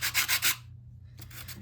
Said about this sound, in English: We'll now be sanding the edges